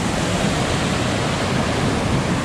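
Cucumber Falls at Ohiopyle rages in a steady, dense roar of falling water, loud and close, with no pauses or other sounds.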